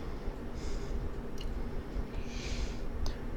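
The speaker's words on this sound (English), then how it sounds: "I'm going to give the air a sniff." A person takes a couple of short sniffs of the air in warm woods, two soft breathy bursts spaced apart over a quiet background.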